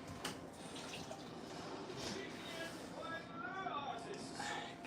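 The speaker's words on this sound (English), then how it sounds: "just gonna get my fingers a little bit wet from the sink" Water runs steadily from a kitchen sink tap, a soft continuous hiss beneath a person talking nearby.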